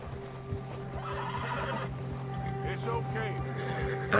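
A horse in the video game Red Dead Redemption 2 whinnies several times over clip-clopping hooves and a steady background hum, with a voice talking in the background.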